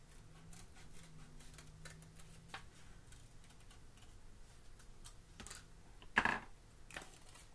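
Scissors cutting along a line on a bumpy paper plate to make a mask, heard as faint, sparse snips and clicks with one sharper snip near the end, no talking.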